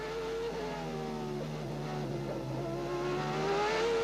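A 1990 Formula 1 car lapping Le Castellet in qualifying, its high-revving engine screaming loud and close, dropping and rising in pitch through gearchanges and sliding around a slow S-bend, with no talk over it.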